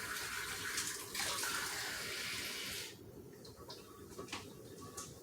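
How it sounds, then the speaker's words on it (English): Water pours in a steady, fairly close stream into a food processor holding ground chicken for making chicken flour, then stops about halfway through, leaving quieter, faint splashes. "We're going to need a few tablespoons of water."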